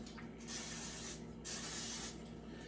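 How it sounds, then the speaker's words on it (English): Cooking spray hisses from a can onto a spoon in two short, steady bursts. The bursts are close and fairly faint, separated by a brief pause. "I usually spray with cooking spray."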